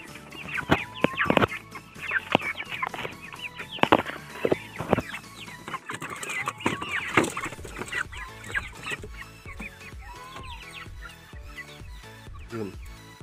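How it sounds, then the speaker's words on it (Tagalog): Young chickens, about two months old, cluck and squawk close by in an irregular chatter, with some clanking and scraping mixed in. "Tara, painumin natin yung mga manok natin."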